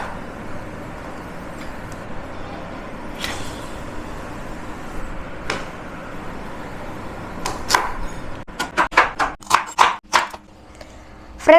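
A kitchen knife chops moringa leaves on a board for a moringa halwa, a run of sharp rapid cuts building up near the end over a quiet background, with no talking.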